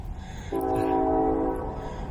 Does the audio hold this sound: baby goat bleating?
no